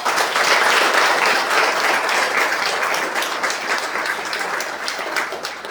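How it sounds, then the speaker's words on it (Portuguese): A congregation at a First Communion Mass applauds steadily for several seconds, a dense wash of clapping that stays loud and fades only slightly toward the end. "Vamos acolher essas quatro crianças"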